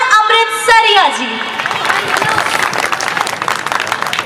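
Lively audience clapping at a poetry recital at an annual function welcomes a poet, rising right after a voice stops and continuing densely for about three seconds.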